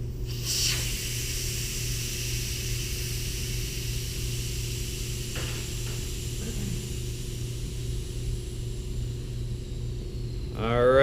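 Air hisses steadily out of a tire through the open valve after the valve stem is pulled, a constant close breathy rush lasting many seconds over a low hum, ending with a brief louder noise.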